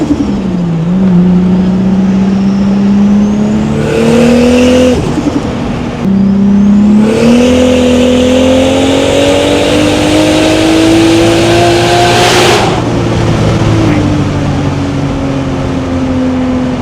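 A big-turbo Toyota Supra MK4 accelerates hard at full throttle, its engine note climbing steadily through the gears with brief breaks at each shift, very loud and close with no voices.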